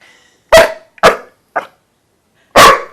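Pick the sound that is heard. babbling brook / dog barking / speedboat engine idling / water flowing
dog barking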